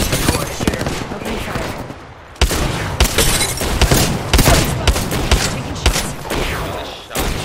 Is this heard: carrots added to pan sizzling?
no